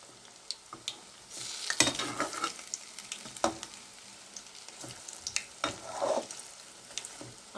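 Wheat vada (kothumai vadai) frying in hot oil: a quiet, soft sizzle with scattered light clinks and taps of a utensil against the pan.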